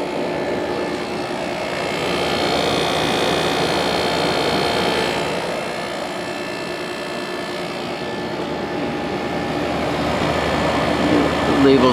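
A Comfort Aire 15100 BTU window air conditioner runs steadily with a broad whirring hum and fan rush, its motor label faded, close and constant for the whole stretch while someone talks over it.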